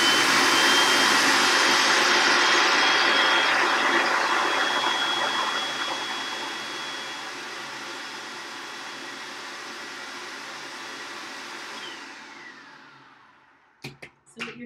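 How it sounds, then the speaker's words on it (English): Blender whirring through raw taco sauce, a loud steady roar close by that gradually thins and quiets as the blades run, then stops, followed by a few soft clicks and a voice. "let's blend this up and see how it goes"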